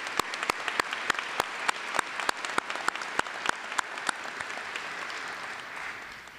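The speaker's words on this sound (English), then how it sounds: "let's all come together for a round of applause" An audience at a college convocation applauds with a steady wash of clapping and several sharp, distinct claps standing out near the microphone, fading gradually toward the end.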